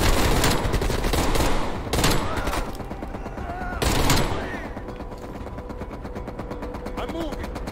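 Gunfire in Call of Duty: Black Ops Cold War, loud sustained automatic bursts up front followed by quieter scattered shots, with a voice talking over the battle noise.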